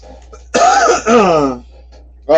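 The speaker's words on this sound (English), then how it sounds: "elbow cough, my bad" A throat-clearing cough in two quick bursts, close and loud, followed by a brief pause and the start of another short cough.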